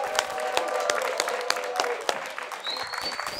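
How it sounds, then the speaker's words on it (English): A studio audience applauds to welcome a guest onto a talk show, a moderate patter of claps with a few sharper nearby hits, fairly even, with a faint tonal whine entering late. "Please, a round of applause as we welcome Mr."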